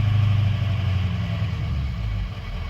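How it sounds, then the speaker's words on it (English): A 2003 Ford Excursion with a 6.0 diesel, run after sitting four years with no oil pressure, churns out a steady, close, low engine rumble that holds fairly even with a slight dip near the end. "If I rev it up a little bit,"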